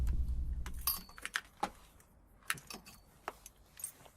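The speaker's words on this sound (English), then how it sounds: "Here are the keys, Hunter." A set of keys jangles and clinks in a quiet room: a few short, bright metallic shakes and taps, spaced irregularly, close and soft with no voices.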